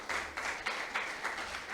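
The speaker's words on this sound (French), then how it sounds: "Je vous prie de l'applaudir s'il vous plaît." An audience claps in a hall to welcome a speaker to a French-language agricultural talk and question session, with a brisk, even burst of many hands applauding together.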